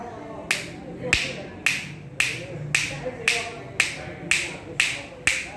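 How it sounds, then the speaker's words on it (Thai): Crisp finger snaps repeat in an even, steady rhythm, about nine sharp clicks, close and clear with nothing else over them. "มือเรามีนิ้ว สิบนิ้วนะครับ สามารถสร้างเป็นเสียงจังหวะได้"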